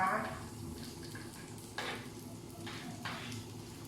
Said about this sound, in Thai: เอากระเทียมกับพริกลงไปเจียวก่อนนะคะ